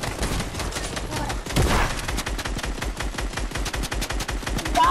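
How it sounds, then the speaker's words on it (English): Gunfire in a shooter video game: rapid automatic bursts crackle in quick succession, loud and continuous, with a sharper heavy shot partway through. "it's a gun, Manula."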